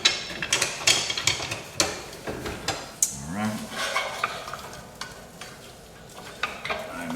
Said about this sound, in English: So we're going to put the garlic and the onions right now in with the pan.